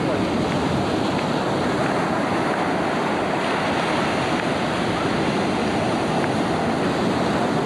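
Sea waves roll onto the beach at Matinhos and Caiobá, a loud, unbroken roar of surf with wind buffeting the microphone throughout.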